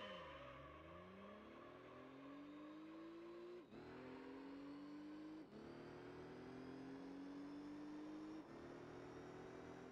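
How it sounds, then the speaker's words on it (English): A race car engine in Gran Turismo 3 revs repeatedly, pitch climbing then dropping with each gear shift, loud and close with a synthetic, game-like quality. "It revs fast."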